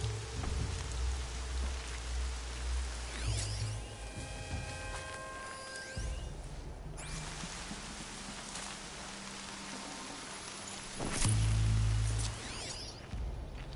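Steady rain falls in the video game Horizon Zero Dawn, a constant hiss of droplets under low rumbling and occasional whooshes, with no talking.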